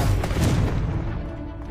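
Confringo blasting spell explosion in the Hogwarts Legacy video game: a loud, close, deep booming burst with a rumbling tail that slowly fades over under two seconds.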